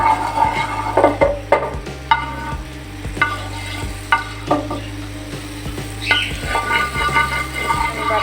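Two tablespoons of butter melt and sizzle in a hot pan, a soft frying hiss broken by repeated clicks and scrapes of a utensil spreading it around.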